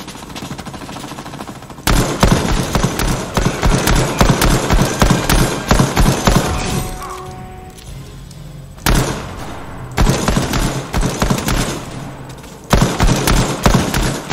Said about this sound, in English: there's too much shooting that maybe I just can't handle